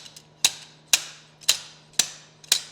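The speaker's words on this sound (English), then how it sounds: "Boom, slide hammer, as you can see." A slide hammer, fitted with a deck screw through an adapter, pulls at a part on a Porsche Boxster engine during reassembly, giving five sharp metallic knocks at a steady half-second rhythm, close and alone.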